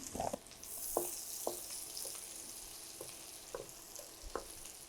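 Chopped onions frying in a pan with a soft steady sizzle, punctuated by several light clicks of a stirring spoon, close and quiet, with no voices.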